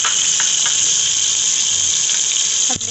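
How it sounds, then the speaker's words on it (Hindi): Loud, steady sizzling of garlic frying in hot ghee fills the clip, with a brief clink near the end. "अब लहसुन को हम अच्छे से फ्राई कर लेंगे"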